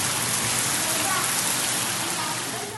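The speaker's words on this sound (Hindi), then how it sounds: "बेशतर इलाकों में बारिश का सिलसिला जारी।" Steady, dense rain pouring down, a continuous close hiss of drops on surfaces with no pauses, loud and even throughout.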